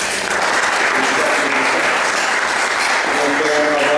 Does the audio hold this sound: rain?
no